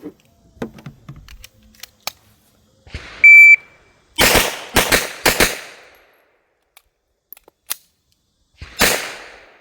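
A Husqvarna 1907 pocket pistol fires .380 ACP reloads loaded with Accurate #2 powder that is not fully burning: a few sharp, loud shots, three in a quick cluster and a single shot later, with gaps and small clicks between them.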